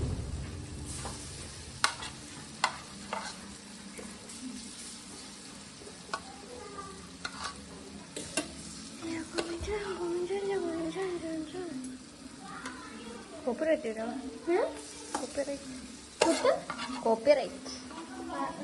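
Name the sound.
mixing Maggi noodles in a pan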